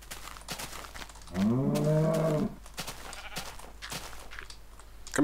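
A Minecraft cow lets out one loud, drawn-out moo in the middle of the clip, with a wavering tone. Quieter game noise and faint clicks sit before and after it.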